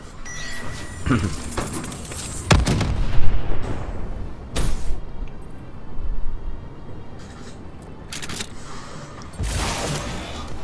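Banshee weapon fire and explosions in a multiplayer video game match, with several loud booming blasts and sharp bursts scattered over a noisy, rumbling battle background, some clattering mechanical clinks in between.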